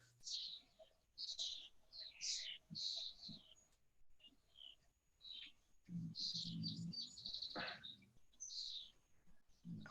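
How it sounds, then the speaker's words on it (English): Small birds chirp and tweet outdoors in short, scattered bursts of high calls, faint and at some distance, with brief quiet gaps between phrases and a low murmur partway through. "I wish I could identify those birds."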